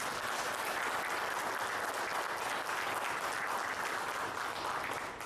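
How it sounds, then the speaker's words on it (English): Sustained, dense applause from an audience at an evening presentation, a steady wash of many clapping hands that holds at an even level throughout, with no talking over it. "I definitely want to give him another round of applause."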